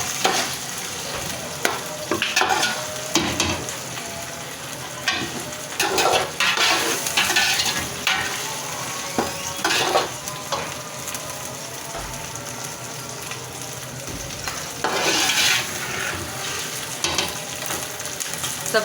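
Potatoes fry in a pan for vegetable pulao, a steady close sizzle with repeated bursts of spatula stirring and metallic scraping spread across the whole stretch, without any talking.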